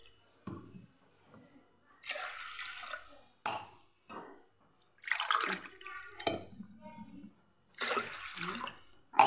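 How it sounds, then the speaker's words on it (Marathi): Water is poured by the glassful into village-style chana dal, heard as several separate splashing pours of a second or so each, split by short quiet gaps, with a final brief splash at the end. "अशा प्रकारे 4 ग्लास पाणी टाकून घेत आहे"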